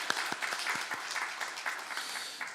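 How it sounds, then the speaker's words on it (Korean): A church congregation at a Sunday worship service gives a round of thankful applause, a moderate cluster of claps fairly close, with no talk over it. "우리 감사 박수 해주시고 고맙겠습니다"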